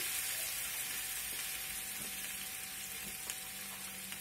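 Courgettes and meatballs cooking in a pan sizzle steadily after a splash of water goes in, a continuous bright frying hiss at moderate level with faint occasional clicks and no voices.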